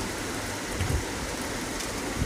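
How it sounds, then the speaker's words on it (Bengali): Night rain pours steadily, a dense continuous hiss of drops close by, with a few slightly heavier patters on a surface. "রাত 1টা বাজে হঠাৎ করে শুরু হলো বৃষ্টি।"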